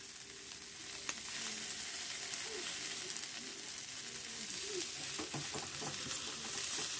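Salted dry fish sizzles steadily in a pan with tomato, green chili, onion and masala, a continuous close frying hiss broken by occasional soft stirring scrapes and clinks.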